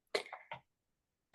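A short burst of coughs from one person in a quiet room, two or three quick rough bursts followed by silence, then a sudden loud noise at the very end.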